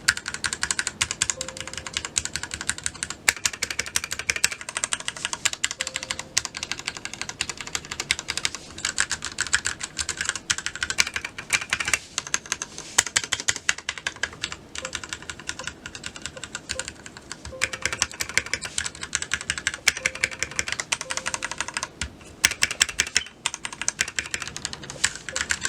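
Steady typing on a white Ducky One 2 Mini mechanical keyboard with linear Cherry MX Red switches, a continuous close patter of keystrokes with occasional heavier thocks, no talking.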